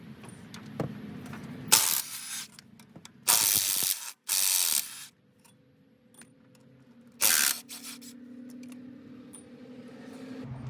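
A ratchet with a 10mm socket works bolts loose to remove the AC compressor on a 1995 Ford F150, sounding as several short, loud bursts of rapid clicking separated by quiet pauses and small metallic taps.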